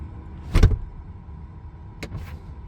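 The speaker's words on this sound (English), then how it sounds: "I'll go ahead and pop the door open if it's safe to do so" Automatic door on a 2022 Tesla Model X, with a sharp mechanical thump followed by two quicker clicks a moment later, close and distinct against a quiet cabin hum.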